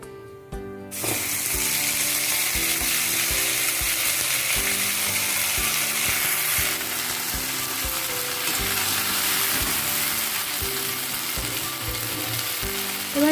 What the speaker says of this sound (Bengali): তেলটা গরম হয়ে গেছে এর মধ্যে দিয়ে দিচ্ছি এই কড়াইশুটি বাটাটা